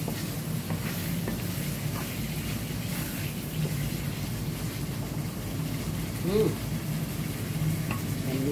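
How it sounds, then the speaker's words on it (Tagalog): Chicken pieces sizzle and fry in a pan while being stirred, a continuous crackling hiss with soft scraping. "Stir it, and mix it."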